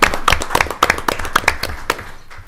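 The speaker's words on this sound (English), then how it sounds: "A round of applause" Scattered clapping from a small group at a Henderson County Fiscal Court meeting, a handful of sharp, uneven claps close by that thin out and stop within a couple of seconds.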